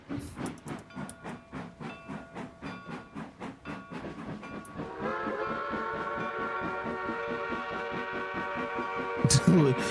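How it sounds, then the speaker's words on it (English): A narrow gauge style steam locomotive whistle in the Trainz train simulator, with rhythmic chuffing and hissing steam leading into a sustained loud whistle that holds steady for several seconds. "That also sounds like a narrow gauge whistle."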